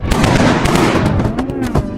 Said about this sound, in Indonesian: Ternyata itu adalah tembakan dari David yang berhasil melepaskan diri.